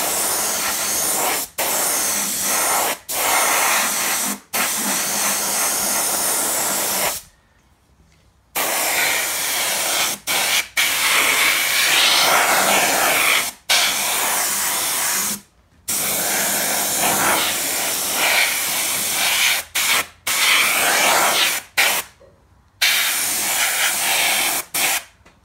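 Spray gun painting a car chassis: a steady, loud, close hiss of spraying in long bursts, broken by a few short pauses where the trigger is released, with no voices.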